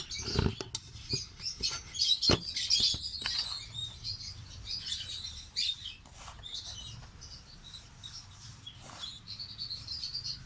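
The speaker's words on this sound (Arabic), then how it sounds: "ايه رايكم في صوت العصافير؟" Small birds chirp in quick, high twittering bursts, close by, with some soft pattering and rustling underneath.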